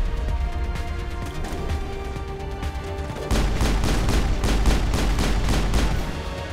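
Sniper gunfire in Mass Effect: sharp, repeated shots crack out in a rapid, loud burst, denser in the second half, with scattered impacts in the background.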